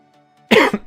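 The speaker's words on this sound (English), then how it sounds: "I do deeply apologize for me coughing on stream" A single short, loud cough bursts out close to a live-stream microphone, following near silence, with a second smaller cough at the very end.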